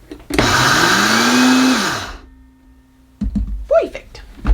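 A Vitamix blender grinds flour with a loud, steady whine whose pitch slowly climbs before the motor cuts and winds down, leaving a low hum, then someone starts talking.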